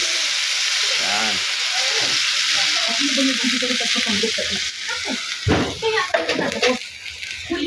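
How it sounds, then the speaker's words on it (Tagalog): Crab Bicol Express sizzles loudly in a pan just after a splash of water goes in, a steady frying hiss with stirring scrapes while a voice speaks briefly over it. "Lagyan natin ng konting tubig lang mga idol."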